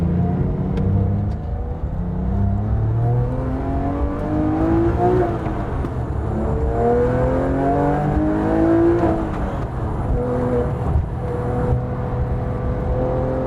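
Porsche 997 GT3 RS sports car, an older model with hydraulic steering, driving with its engine droning and rising and falling through gears in steady sweeps, loud and close throughout with no talk.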